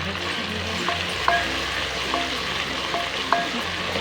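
A steady, close sizzle of ginger-garlic paste and spices frying in a hot pan for chole salan, with occasional light clinks and scrapes of a spoon stirring.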